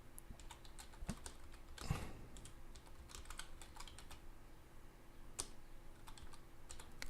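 Fast, uneven clatter of computer keyboard typing, quiet and close, with crisp key taps in bursts and a couple of heavier thumps, alone without any talk.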